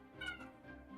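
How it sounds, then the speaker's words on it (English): A cat meows once in a video game, a short, faint, wavering cry with no talk over it. "Sounds like a cat meowing."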